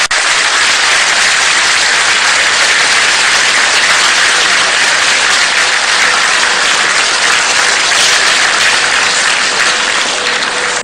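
Sustained, dense applause fills the closing hall of a SAARC summit, loud and unbroken for the whole stretch with no talk over it.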